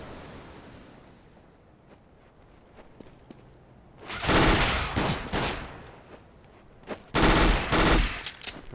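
Counter-Strike on de_dust: bursts of MP9 submachine gun fire, two loud rapid volleys separated by a short pause, after a quiet stretch of faint background ambience.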